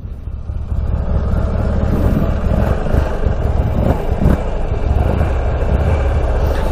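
A quad ATV engine idling low at around 1,000 rpm, a steady rumbling putter close by that rises slightly after the first second and then holds an even, uninterrupted drone.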